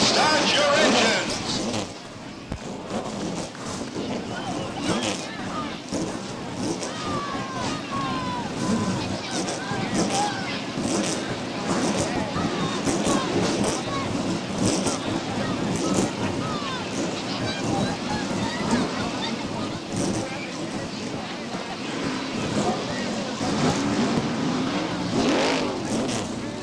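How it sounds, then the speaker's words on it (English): Several race car engines fire up and roar together at Beech Ridge Motor Speedway in 1990, a loud, continuous rumble mixed with crowd and wind noise that holds steady for the whole stretch. "Gentlemen, start your engines."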